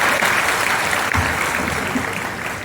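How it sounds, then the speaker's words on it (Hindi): Applause at a public inauguration ceremony in Saharanpur, welcoming a dignitary to the stage: dense, steady clapping from a large crowd, loud and continuous throughout with no voices over it. "जोरदार तालियों के साथ अभिनंदन स्वागत"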